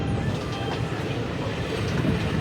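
The Krishna Express, train 17405 from Secunderabad to Adilabad, rumbles steadily along the rails, a dense, continuous rolling roar heard from aboard.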